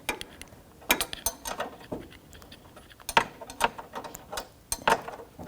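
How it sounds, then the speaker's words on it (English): A 13mm wrench loosens the condenser hose bolt on a 2007-2017 Jeep Patriot 2.4L behind the peeled-back bumper cover. Faint, irregular metallic clicks and scrapes come close by with quiet pauses between them. "13mm wrench or socket. We're going to break this bolt free."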